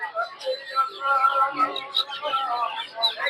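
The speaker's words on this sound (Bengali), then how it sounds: "তিতির মুরগির বাচ্চা" Shrill, continuous peeping of many guinea fowl chicks close by at a poultry market, with faint voices in the background.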